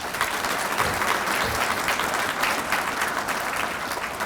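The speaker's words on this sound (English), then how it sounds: "Let's give them a big round of applause." A summit audience breaks into steady, dense applause that holds at an even level throughout, many hands clapping together in a large room with no voice over it.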